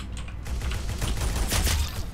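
Pistol fire in the Roblox shooter Arsenal, with a Mini High Power handgun firing a quick run of sharp, close shots in rapid succession over about two seconds, loud and dense with no talking.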